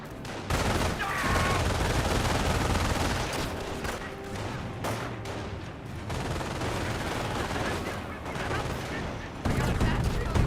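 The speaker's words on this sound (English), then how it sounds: "Prep squad taking some fire there." Rapid gunfire and bursts from a Company of Heroes battle crackle almost nonstop, loud and dense, with a commentator's voice faintly mixed in.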